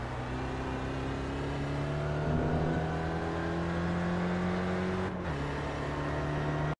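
A Skip Barber-style SRF race car at Oran Park GP in iRacing holds a loud, steady engine drone that rises slowly under acceleration, then briefly drops near the end at a gear change before resuming its constant buzzing whine.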